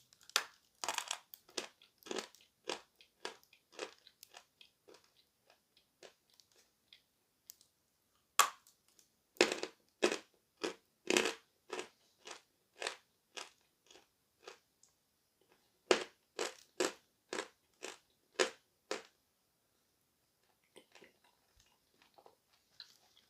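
Novy Oskol chalk crunched and chewed up close, sharp dry snaps and crackles in quick bursts, pausing near 6 s and 19 s, with no talking.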